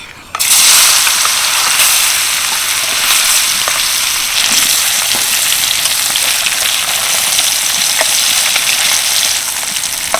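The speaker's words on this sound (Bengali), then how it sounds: "এবার ওই তেলের মধ্যে পনিরগুলোকে ভেজে নেব" Paneer cubes fry in hot oil over a high flame in a kadai for veg biryani, giving a loud, steady, dense sizzle with faint crackles that runs the whole time without any talking.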